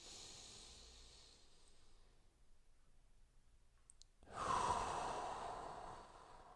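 Breathing during a postural strengthening exercise: a quiet, soft exhale fades out, a near-silent pause follows, then a long audible inhale or hiss swells up, close and alone without talk.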